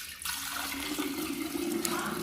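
Water pours and splashes steadily into a container as it is topped up for watering plants, a continuous close rushing sound with no talk.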